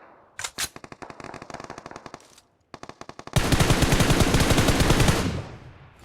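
Rapid automatic gunfire in a battle royale video game rattles in quick bursts, pauses briefly, then erupts into a long, loud, sustained volley that fades at the end.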